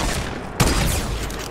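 Gunfire in the Fortnite video game during a tournament match: a sudden loud burst of shots followed by a dense, rumbling stretch of game noise.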